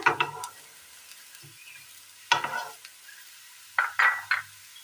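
Food sautéing in a pan for a Kerala curry, with soft sizzling beneath a few distinct stirring scrapes and clatters of a utensil against the pan, spaced apart with quieter gaps between them.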